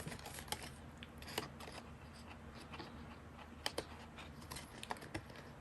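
Scissors snipping card stock or paper to shape tabs for a handmade mini file book, a string of small crisp cuts close by over quiet room tone with no talking.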